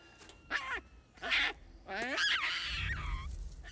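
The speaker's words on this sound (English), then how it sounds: "Baboon is warning you, man." A baboon in the 1996 film The Ghost and the Darkness gives harsh, barking warning calls, several loud squawking bursts in quick succession, followed by a low rumbling scene sound.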